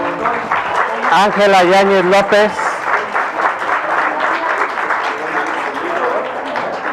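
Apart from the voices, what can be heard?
applause for the director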